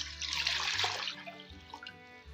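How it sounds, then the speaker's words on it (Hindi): Water splashes and gurgles as it is poured into a cooking pot, a close, brief burst that tapers off after about a second. "यहाँ पे मैंने लिया एक पॉट, इसमें शामिल होगा पानी।"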